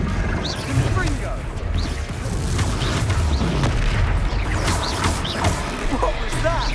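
Confringo fire spell blasts during a Hogwarts Legacy battle, a dense continuous barrage of booms, crashes and impacts, loud and close, with combat voices and shouts mixed throughout.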